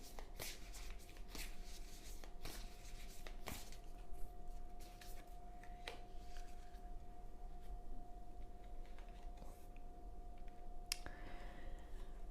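Oracle cards are shuffled and one is drawn during a tarot-style reading, giving soft intermittent clicks and shuffling rustles at low level over a steady background hum.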